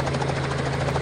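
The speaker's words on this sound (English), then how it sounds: "H for helicopter" Loud, steady helicopter rotor thrum with a low droning hum, continuous and close, no voices.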